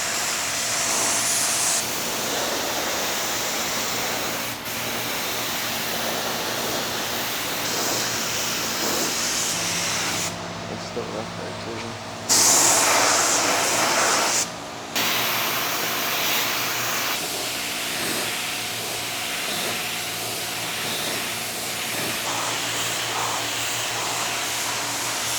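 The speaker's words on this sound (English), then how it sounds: "So 20 PSI on the air pressure. kind of a medium wet coat of primer." Air spray gun at 20 PSI laying a medium wet coat of primer on a used car bumper cover, a steady loud hiss running for nearly the whole stretch, broken by a couple of brief pauses between passes.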